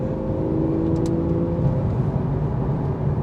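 A Porsche 911 Carrera 2 of the 991 generation with a PDK gearbox holds a steady, fairly loud engine drone after a downshift to first at about 30 mph, a smooth hum with no sharp peaks.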